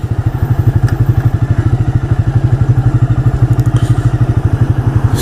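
A 1985 Yamaha Virago motorcycle thumps loudly and rhythmically while being ridden, with a rapid pulsing engine beat that carries faint rattling clatter and wind noise throughout.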